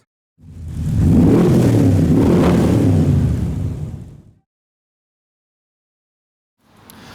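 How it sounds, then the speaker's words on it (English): A McLaren F1 GTR race car roars past on the road at a car show. A loud, rumbling engine swells and holds for about four seconds, then cuts off to silence before another engine sound rises at the end. "This is McLaren F1 GTR."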